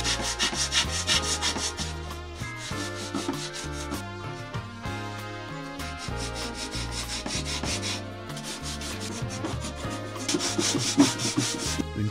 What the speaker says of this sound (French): Une très bonne séance de ponçage.